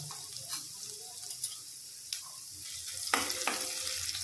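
Garlic, onion and cumin frying in a pan for a potato bhaji, with a quiet sizzle under scattered clinks and scrapes that grow louder and busier toward the end; no voices.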